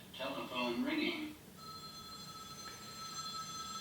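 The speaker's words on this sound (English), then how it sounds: "Or that telephone ringing." A telephone in a Twilight Zone episode rings with a steady electronic trill after a brief stretch of speech, the ring continuing at moderate volume to the end.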